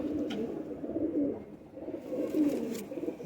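Soft, low coos from a pair of Ambaley pigeons on a rooftop repeat in two rounded bursts, fairly close and gentle, with light rustling between them.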